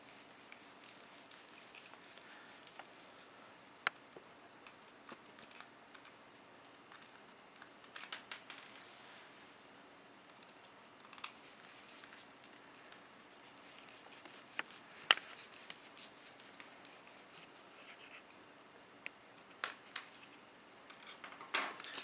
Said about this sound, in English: it's just a regular Phillips screwdriver. So we're going to unscrew these.